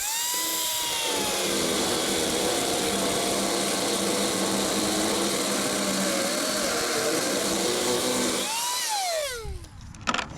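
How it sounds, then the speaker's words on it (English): A power tool whines loud and steady as it cuts out a bolt on a 6x12 utility trailer's shackle, the pitch sliding when the load changes, then winding down near the end. "There's the bolt that I want to cut out."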